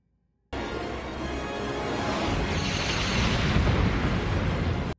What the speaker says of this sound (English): flying through explosions once you destroy the ship.